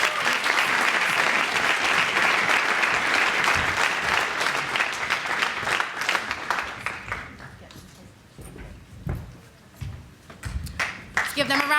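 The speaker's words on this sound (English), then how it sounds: "Let's give them a round of applause" Applause from the audience at a youth summit award ceremony, dense and sustained at first, then thinning into scattered claps that fade toward the end, with some voices mixed in.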